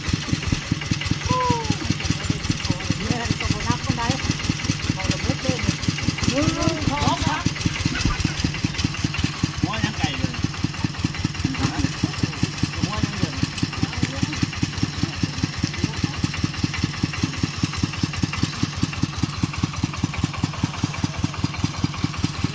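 A rice threshing truck's engine idles with a steady, rapid low chugging that runs the whole time, while people talk faintly over it.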